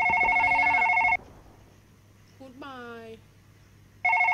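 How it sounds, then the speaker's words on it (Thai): Loud electronic telephone rings from the horror video game One Last Night, one burst at the start and another at the end, with a short spoken phrase in the quiet gap between them. "เฮ้ยเสียงโทรศัพท์พี"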